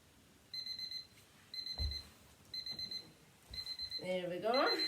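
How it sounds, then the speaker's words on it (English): An exercise timer alarm marks one minute with a series of short repeated electronic beeps in evenly spaced bursts, fairly faint, with a person's voice and some shuffling in the background. "You'll hear the alarm when it gets to a minute."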